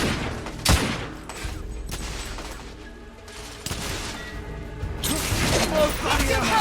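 Gunfire in the video game The Order: 1886, heard as sharp shots and bursts over a tense combat soundtrack, with voices shouting at times.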